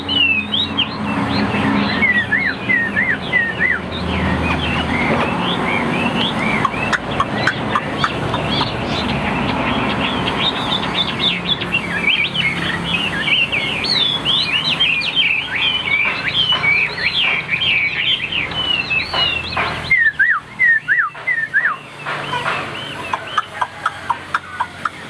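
Close, loud, continuous songbird singing with rapid chirps, whistles and trills running for nearly the whole stretch, over a dense busy background and without any talking.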